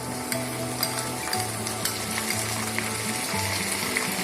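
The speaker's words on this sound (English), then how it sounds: "Once the onion are browned nicely, I'll put the onion paste," Onion paste sizzles steadily in hot oil with onions already browned, for a Bengali prawn malai curry, giving a close, continuous frying hiss with light stirring scrapes throughout.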